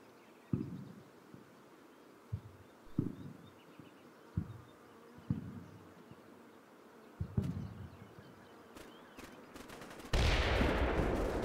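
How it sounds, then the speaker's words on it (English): A round cooking off inside an already destroyed BMP in a military video game, heard as a string of dull, distant low thumps spaced a second or two apart, ending in a sudden loud burst of broad noise. "that explosion was just a round cooking off in the already destroyed BMP"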